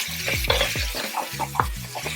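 Onion dropped into a hot pan with browned ginger for Filipino arroz caldo, giving a loud close sizzle with scraping stirs and a few clanks of the utensil against the pan.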